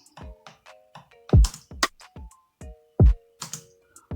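A dancehall drum pattern plays as a sparse, syncopated loop: deep kick thumps trade with sharp, dry rim shot clicks, sounding crisp and close with no voices.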